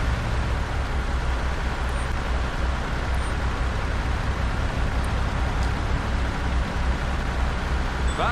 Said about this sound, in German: Der hört sich nämlich arschlaut an, der Wagen.